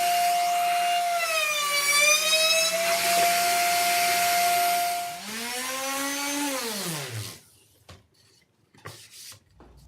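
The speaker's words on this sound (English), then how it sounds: "We're gonna go ahead and get a nice round over on this, so the jack plate fits in and seats in nice and tight." A router fitted with a quarter-inch round-over bit cuts the edge of a wooden panel for a 1x12 guitar speaker cabinet. Its loud, steady whine sags in pitch under load, then spins down and stops, leaving a few faint knocks.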